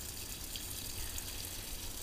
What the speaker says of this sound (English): I'll let the water flow